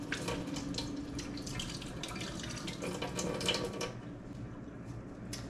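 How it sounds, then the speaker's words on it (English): Tap water runs steadily and splashes while aloe leaves are rinsed clean, a continuous close spray with soft shifting and dripping, no voices. "we're just gonna clean all of the leaves and give them a good rinse"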